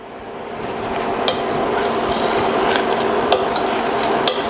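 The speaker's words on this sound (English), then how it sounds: "we're just going to stir and occasionally stir this" Caramel sauce made without cream bubbles in a pot on the stove while a utensil stirs it, giving a loud, close, steady frothy hiss with a few sharp clicks against the pot.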